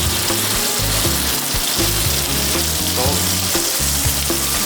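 Ground bison sizzles in olive oil in a hot pan in a ski resort kitchen. The loud, steady frying goes on throughout, with occasional stirring and no talk.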